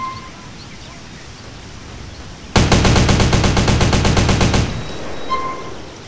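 An SMG firing in a GTA San Andreas weapon mod, a rapid evenly spaced burst of about twenty loud close shots lasting roughly two seconds, then a fading echo over quiet ambient background.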